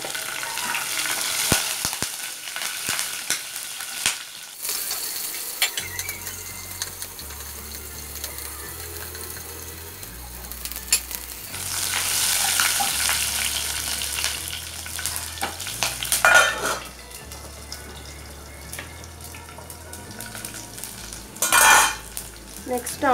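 Tempering spices fry in hot oil for an aloo kurma, giving a steady close sizzle with spoon scrapes and clatter against the pan and a few louder bursts of crackling.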